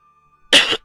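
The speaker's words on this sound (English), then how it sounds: "Got a bit of a cough at the moment." A single short, sharp cough from a man, loud and close, in an otherwise quiet moment.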